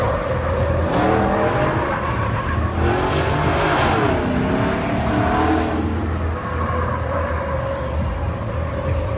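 A truck's engine revs hard with screeching tires as it drifts at a SEMA show drifting exhibition, loud and close, the pitch rising and falling before easing off near the end.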